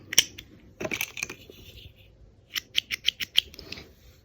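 Crisp snips from small cross-stitch kit scissors: a few scattered cuts, then a quick run of five or six sharp snips in a row, close and clear with no talking.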